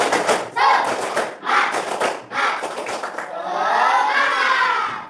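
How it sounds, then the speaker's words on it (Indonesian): A class performs the tepuk semangat chant, bursts of rhythmic group clapping alternating with children shouting in unison, ending in a long drawn-out cheer. "Ayo, tepuk semangat."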